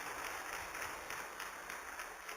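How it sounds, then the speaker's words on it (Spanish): Congregation in a church applauding for Jesus, a steady, even wash of clapping that fills the space without pause, fairly faint and with no voices over it. "¿Cree usted que sería bueno darle al Señor Jesús un fuerte aplauso de agradecimiento por todo lo que Él ha hecho por nosotros?"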